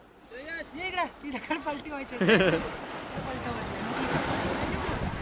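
Sea waves wash onto a rocky shore where clams are being gathered. Voices talk over the first half, then a steady, fairly loud roar of surf carries on alone.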